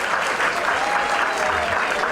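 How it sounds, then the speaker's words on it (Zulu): A crowd at a Zulu memorial service applauds steadily, a dense, fairly loud wash of clapping that goes on for the whole stretch with no voice above it. "ngicela nimshayeleni ihlombe ngempela"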